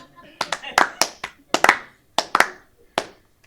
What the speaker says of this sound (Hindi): अब ताली चाहिए.